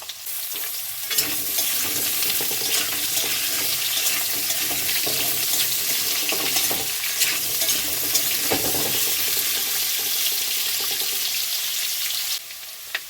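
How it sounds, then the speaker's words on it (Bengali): Potatoes frying in oil in a pan for a Bengali puti fish and potato jhal, a steady close sizzle with scraping stirs and clinks of a spatula, continuous and fairly loud, with no talking. "আলুগুলো হালকা ভেজে নেবো"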